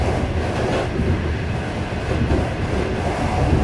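Overnight sleeper train from Shijiazhuang to Shanghai accelerating toward a station, a steady loud rumble of wheels and carriage noise continuing throughout with no voices.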